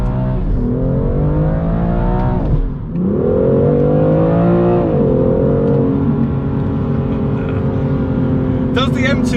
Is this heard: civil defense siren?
no